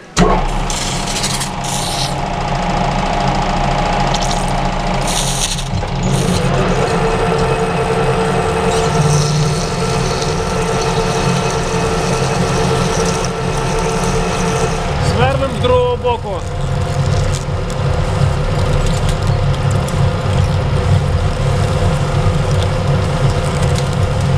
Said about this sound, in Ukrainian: Свернемо отвір на скрізний.